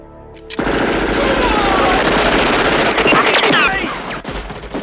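Automatic gunfire roars through a movie gunfight scene, starting abruptly and continuing in dense, loud bursts for several seconds before thinning into scattered shots near the end.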